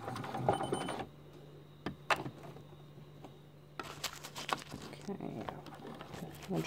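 A computerised sewing machine automatically finishes a buttonhole stitch, making bursts of rapid mechanical whirring and clattering that stop and start, close by and loud, with quieter handling noises in between.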